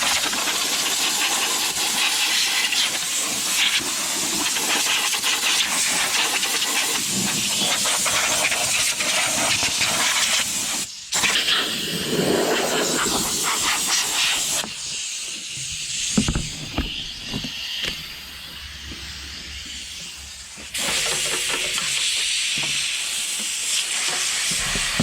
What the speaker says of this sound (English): we're going to blow all this out with the airline